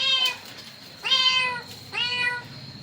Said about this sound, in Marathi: ते मांजरचे पिल्लू एकटंच राहिलं, लय ओरडतंय